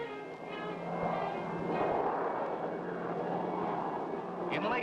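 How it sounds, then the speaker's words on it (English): The steady droning rumble of airplane engines fills the air while a voice speaks over it. "the planes appeared high in the sky, hovering like hawks"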